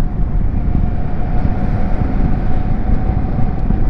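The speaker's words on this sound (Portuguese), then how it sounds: "Ah, um caminhão ali." A truck passes a Versys 650 ABS Tourer 2018 motorcycle on a dusty road, with a loud, steady engine and road roar throughout and no voices.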